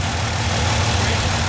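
A 1963 GMC 1000 pickup truck with a big-block V6 idles steadily, a loud, close, even rumble with a faint rhythmic throb and no break.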